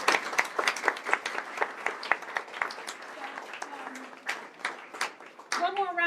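A gallery audience applauds curator Rosa, with scattered, crisp claps that thin out toward the end, where a voice begins speaking over the fading clapping.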